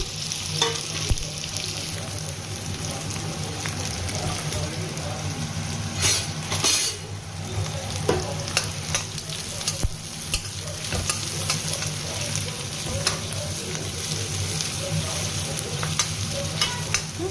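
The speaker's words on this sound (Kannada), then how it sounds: "ಸೊ ಎಣ್ಣೆ ಬಿಸಿ ಆದ ತಕ್ಷಣ ಸ್ವಲ್ಪ ಜೀರಿಗೆ ಹಾಕ್ಕೊಳ್ತಾ ಇದ್ದೀನಿ. ಈಗ ಇದಕ್ಕೆ ಆನಿಯನ್ ಹಾಕೊಳ್ಳೋಣ." Chopped onions frying in hot oil with cumin seeds in a home kitchen pan, a steady dense sizzle with stirring scrapes running throughout, close and fairly loud, no talking.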